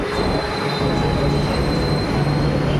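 A metro train rumbles loudly and steadily nearby, with wheel noise and a faint high squeal running throughout.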